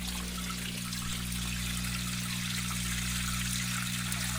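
Water trickles and drains steadily through side holes in a basement setup, a continuous faint wash of flow over a constant low electrical hum, with no talking.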